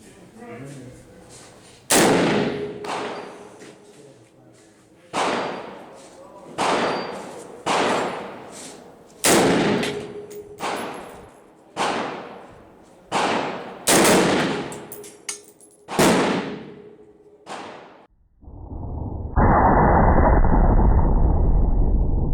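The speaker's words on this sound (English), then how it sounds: "I'm going to shoot a couple more times. I mean, I built it. I deserve to shoot it." A home-built AR-15 rifle fires about a dozen loud, sharp shots outdoors, spaced a second or so apart with decaying echoes, followed by a sustained rumble and rustle at the end.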